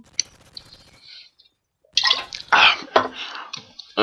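Water pours in a couple of splashy, noisy bursts after a quieter stretch, close and fairly loud, with a brief dry gap between the pours.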